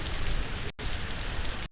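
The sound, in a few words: rain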